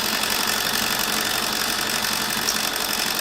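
A sewing machine sews sashing strips for an Irish chain baby quilt, giving a loud, continuous mechanical whirr with an even texture throughout.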